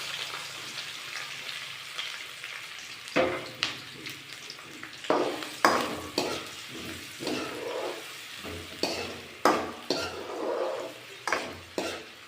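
Sliced onions and green chillies fry in tempering oil for a bitter gourd and egg stir-fry, with a soft sizzle and a rhythmic series of spatula knocks and scrapes against the pan.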